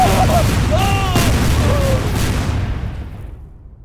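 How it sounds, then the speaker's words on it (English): Orbital missile strike explosions in Garry's Mod rumble as a dense, continuous barrage of booms, loud at first and slowly fading away over several seconds, with faint tonal whistles riding on top. "It also has an orbital missile strike, which can rain down hundreds of missiles onto the target area."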